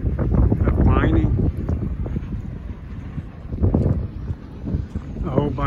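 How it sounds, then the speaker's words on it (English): Wind blowing outdoors near a lava mountain in Idaho, buffeting roughly against the microphone in uneven gusts, loud and close, with people talking over it. "A little bit windy."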